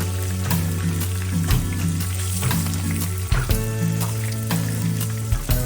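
Okoy batter fries in hot oil over medium heat, giving a loud, steady sizzle that runs throughout with occasional bursts and pops.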